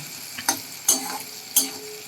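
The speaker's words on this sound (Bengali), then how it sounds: "গোটা জিরে তেলে দিয়েছে তারপরে পেঁয়াজ দিয়েছে এটা এখন ভাজা ভাজা করবে" Onions sizzle in hot oil with whole cumin seeds, a soft steady frying hiss broken by three sharp clicks of a utensil stirring against the pan.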